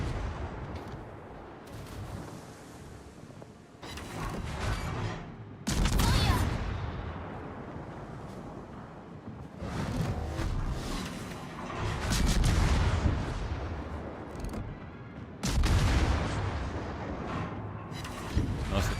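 Heavy naval gunfire from warships in the World of Warships video game, loud booming salvos roughly every five seconds with rumbling decay between them, up front and unbroken by talk.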